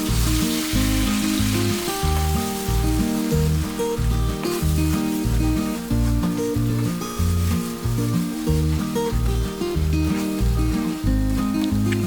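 Scrambled eggs with soft tomatoes being mixed and scraped across the bottom of a hot pan for egg kothu parotta, a dense steady sizzle with rhythmic scraping strokes, close and loud throughout.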